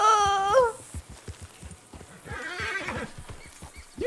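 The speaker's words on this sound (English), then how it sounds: "That was your horse." A horse whinnies loudly and close by in a long, shaky neigh, followed by scattered hoof clops and shuffling, with a softer second whinny later on.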